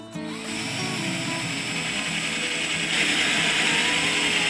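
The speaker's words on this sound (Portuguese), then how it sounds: "E nós vamos fazer perfuração em todo esse bloco" A power drill with a large-diameter bit bores holes into a wooden block being made into nests for solitary bees, a steady close whining grind that grows slightly louder and harsher partway through, with no talking.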